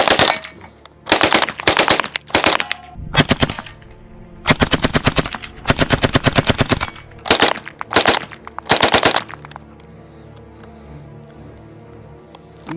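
A World War II MP40 submachine gun fires after a fresh magazine goes in, loud close rapid bursts in several strings of varying length, followed by a quieter ringing tail.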